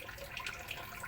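Water runs steadily from a faucet as a soft, even hiss, quiet and brief, with no other sounds.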